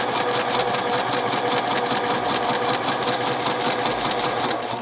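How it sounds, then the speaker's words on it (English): Sewing machine back tacking through muslin fabric near a fold, a steady, close, rapid mechanical stitching rhythm running continuously with no pauses or talk. "Be careful when back tacking at the fold here."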